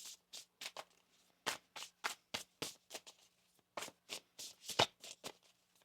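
Quiet, close tarot card shuffling: a series of short crisp riffling bursts, some quick pairs and some spaced apart, with near silence between.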